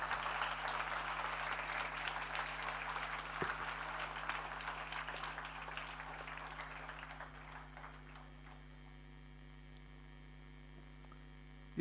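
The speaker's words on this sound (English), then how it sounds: "Please give them a bigger round of applause." Audience applause for a girls' team at an inter-school general knowledge quiz final, a moderate clapping wash that fades out after about seven seconds, leaving a steady electrical mains hum underneath.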